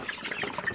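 Chickens raised cheaply in a small space on a little farm give a few brief, soft clucks and chirps amid light background noise.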